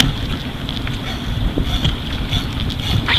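Fishing boat idling while anchored up for tarpon, its low steady engine rumble running throughout with wind buffeting the microphone and no talk.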